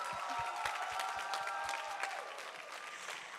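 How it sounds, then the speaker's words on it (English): Audience at a high school Black History program applauds, a broad wash of clapping with a rhythmic low thumping beat running underneath, moderately distant and easing off toward the end. "Let's give them another round of applause"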